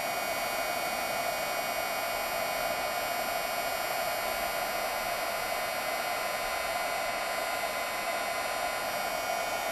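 A heat gun runs steadily while melting gold embossing powder on ivory cardstock, giving a continuous, even blowing whir with a faint electrical hum, close up and uninterrupted, with no talking.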